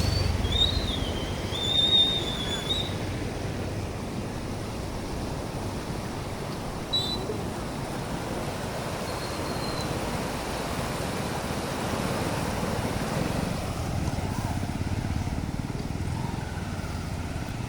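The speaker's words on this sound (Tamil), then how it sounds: "அந்த அளவுக்கு மழை வேற லெவலில்." Heavy rain pouring on a road toward Tiruvannamalai, a steady broadband hiss of downpour and running water filling the whole stretch, with a faint squeal early on and no talking.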